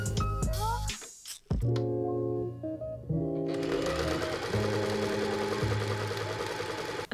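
A sewing machine hems the bottom of a shirred summer dress's skirt, whirring in steady stitching runs close to the microphone after a couple of brief starts and stops.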